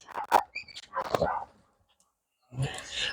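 Dogs bark in short close bursts, a couple of sharp barks followed by a brief silence and then more barking, with a voice nearby.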